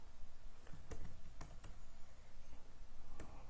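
Typing on a computer keyboard, with sharp scattered key clicks over a steady low room hum, irregular in rhythm and fairly close.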